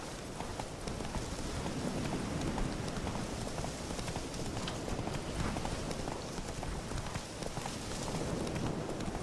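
Geralt's horse Roach clip-clops along at a steady trot in The Witcher 3, a continuous, moderately quiet patter of hooves with a rain-like hiss and no talking over it.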